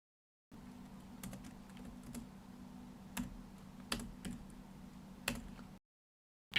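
Keys clack on a laptop keyboard in a quiet room, a run of soft, uneven taps over a low hum, with a few sharper, louder keystrokes standing out now and then.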